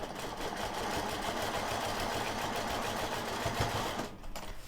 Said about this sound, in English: I'm going to line it up against the stitching line and stitch out.